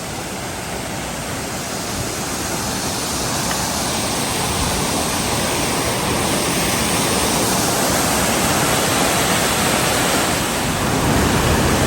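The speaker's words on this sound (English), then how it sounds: "we'll reach our first point of interest, Big Branch Falls." Big Branch Falls, a waterfall at Virgin Falls in Tennessee, gives a steady, loud, broadband roar of falling water that holds unbroken for the whole stretch with no voices.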